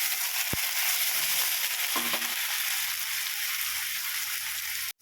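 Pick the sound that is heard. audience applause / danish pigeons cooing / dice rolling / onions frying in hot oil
onions frying in hot oil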